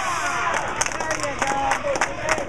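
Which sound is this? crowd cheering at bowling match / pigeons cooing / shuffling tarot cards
crowd cheering at bowling match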